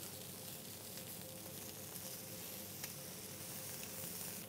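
Food sizzling gently in a pan at low heat, a soft, even crackling hiss held steady throughout, faint and close with no talk over it.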